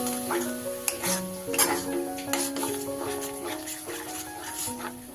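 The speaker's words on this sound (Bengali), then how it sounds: "দিয়ে এবার ভালো করে একসাথে মিশিয়ে কষে নিই" A roasted ground spice paste with coconut, for a vegetarian potato dum, is stirred and fried in a pan, giving intermittent spoon scrapes and clinks over a soft sizzle, with a steady tonal background running underneath.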